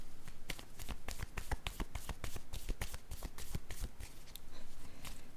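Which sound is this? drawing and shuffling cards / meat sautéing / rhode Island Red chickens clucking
drawing and shuffling cards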